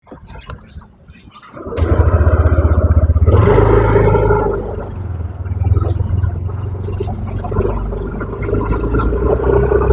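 A 2025 Yamaha NMax scooter pulls away under throttle, its engine note swelling from a low idle into a loud, close buzzing roar that then settles into a steady drone.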